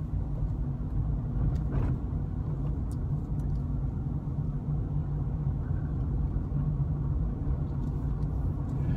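A car drives along a road in third gear, its engine a steady low rumble and road hum heard from inside the cabin, even in level and unbroken throughout, with no talking.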